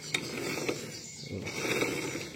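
The rear wheel of a Yamaha Jupiter motorcycle is turned by hand while in gear, giving a faint, steady mechanical whir with light ticking from the drivetrain.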